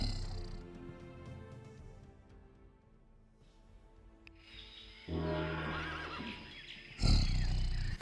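A horse whinnies in the real-time strategy game Battle Realms, one long quavering neigh followed by a second sharp, louder burst near the end over faint game sounds.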